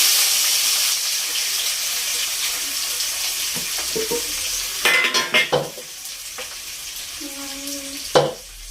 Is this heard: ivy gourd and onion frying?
yes